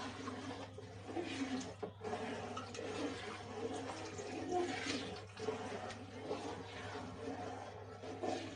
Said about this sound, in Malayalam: അപ്പോൾ ഇതിലേക്ക് ശർക്കര പാനി ഒഴിക്കാം.